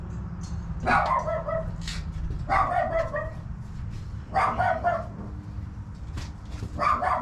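A dog barks in short repeated bursts, roughly every two seconds, over steady low background rumble during a rear air bag install on a 2016 Ram 3500 pickup truck.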